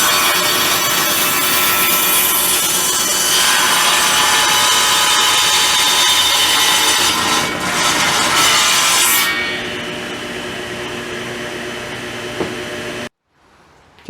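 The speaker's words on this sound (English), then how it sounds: "I've got my table saw ready to go. We'll flip it on, start ripping them," A table saw with a cross-cut sled whines loudly as it cuts wood blanks for vinyl record storage crates, running steadily before spinning down and cutting off near the end.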